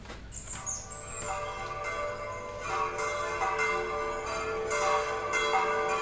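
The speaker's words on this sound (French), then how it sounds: "Tiens, des cloches." Church bells ring out in a resonant, overlapping peal, strikes repeating every second or so with long sustained tones; brief high chirps near the start.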